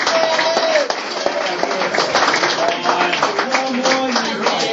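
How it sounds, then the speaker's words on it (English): Audience members at a live noir reading night applaud a volunteer called up on stage for a magic trick, close scattered clapping mixed with voices and movement. "Give Dennis a big round of applause."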